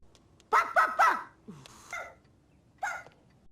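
Someone voicing a dog's bark: a quick run of three close, loud yappy barks, then a lower whine-like sound and a fainter vocal bark, with a final single bark after a short gap, all made by a human voice imitating a dog.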